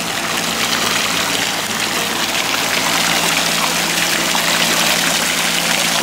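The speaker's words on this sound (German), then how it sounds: "dann kommt man hier schon zu diesem schönen Brunnen" Water runs continuously through a fountain and a small stream near Edersee. The rush is steady and broadband, with a low hum underneath and no voices.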